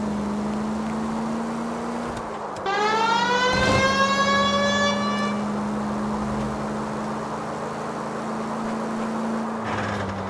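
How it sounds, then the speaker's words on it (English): A police car siren gives one short rising wail over a steady engine hum, close and clear, then cuts off, leaving the idling drone alone. "Turn on the siren."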